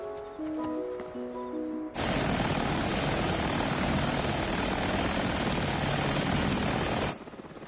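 A helicopter roars in loud and close, its broadband rotor and engine noise filling the air for several seconds before cutting off, after a short musical passage.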